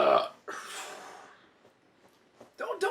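A person burps loudly at close range, a short throaty belch followed by quieter breathy sounds and a second burst near the end, amid casual conversation.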